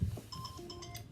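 A kitchen timer going off indoors during a one-minute slime-making challenge, sounding as a short run of repeated electronic beeps in a steady pattern, moderately loud against a quiet room.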